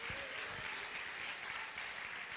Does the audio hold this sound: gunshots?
no